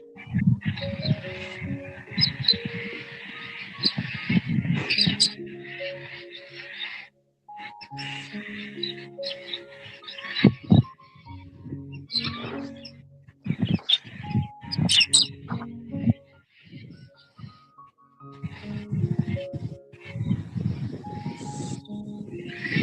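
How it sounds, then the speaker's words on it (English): Wild songbirds in the Australian bush chirp and tweet in repeated bursts over about twenty seconds, fairly close and clear, with short quiet gaps between calls. "the birds are tweeting in the background, the nice ones, not the friggin' cockatoos squawking"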